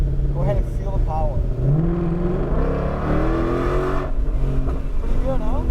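A Shelby GT500 accelerating hard on a race track, its engine droning and rising in pitch as it pulls, loud and close, with a voice talking over it.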